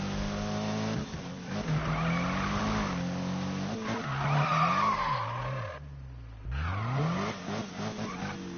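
Car in the Need for Speed video game drifting with a loud, sustained engine drone that swoops up and down, tire squeal and skidding running through it, plus a brief dip as the car shifts or slides.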